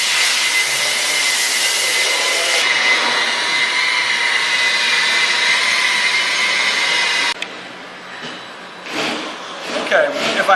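A wool pad buffer spins against a wood finish during polishing, giving a loud steady whirring roar that cuts off partway through, with speech-like sounds over it.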